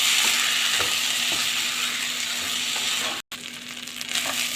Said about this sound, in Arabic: انزل بالرز البسمتي المغسول والمصفى، ياخد تشويحتين عشان يتغلف بالمادة الدهنية